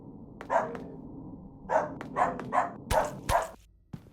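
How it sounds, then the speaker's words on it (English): In a Silent Hill video game, a dog lets out a string of sharp barks, one, then a quick run of four or five, with a few clicks and thumps around them. "you can attract enemies with your barks now"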